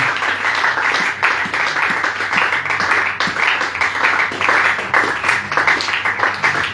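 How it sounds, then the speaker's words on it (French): Church congregation applauding during a French-language worship service, a loud, sustained crowd clapping with a steady rhythmic patter that holds evenly from start to finish. "Acclamons plus fort pour la gloire du Seigneur Jésus."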